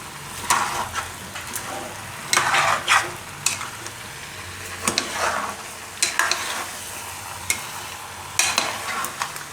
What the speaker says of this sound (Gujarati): આ બધું એકદમ મિક્સ કરી લેવું